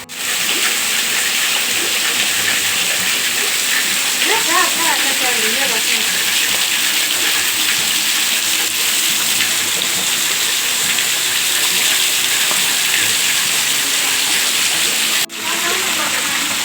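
Heavy downpour with runoff streaming through a street, a loud, dense and unbroken wash of rain and flowing water; a voice is faintly heard under it.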